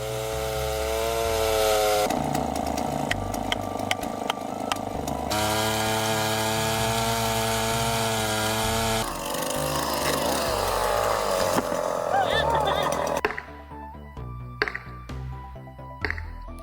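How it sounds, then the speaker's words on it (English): A professional chainsaw revs and whines through several long cuts into massive tree trunks, its pitch shifting under load, then stops, leaving scattered clunks and knocks. "The still professional chainsaw tears through massive trunks with remarkable speed"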